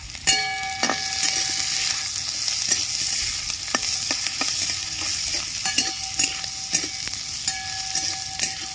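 Sliced onion with slit green chillies sizzles steadily in hot oil in a pan, a continuous close hiss broken by frequent clicks and scrapes of a spatula stirring, with no talk.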